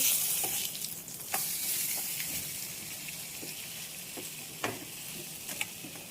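Vegetable biryani sizzles in a pan while it is turned over, with a steady frying hiss and a few sharp scraping knocks of the spoon.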